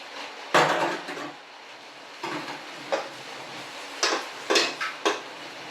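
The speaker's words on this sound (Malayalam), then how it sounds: "ആ പാത്രം ജസ്റ്റ് ഒന്ന് കഴുകിയൊക്കെ വെച്ചിട്ട് വരാം" Someone washes a cooking vessel at a sink, making several sharp metallic clanks and knocks at irregular intervals over a low, steady background.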